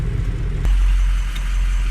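A 2005 Ford Excursion engine idles with a steady low rumble, running with low boost, heard up close after a brief transient shift partway through.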